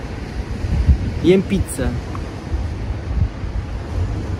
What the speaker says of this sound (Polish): Wieje wiaterek, szumi morze